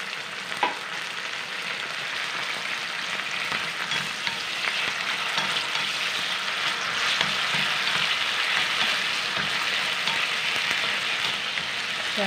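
Green papaya sautéed with canned sardines in a pan gives a loud, dense, continuous sizzle, with scraping stirs and small clinks throughout and no talking.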